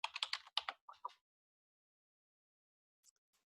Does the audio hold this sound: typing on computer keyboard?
yes